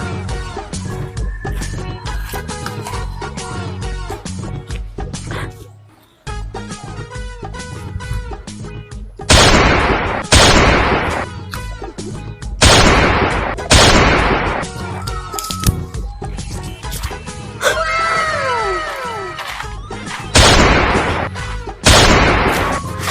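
Repeated loud bursts of toy-gun fire ring out in clusters over busy background music, each burst sharp and close with a brief trailing ring.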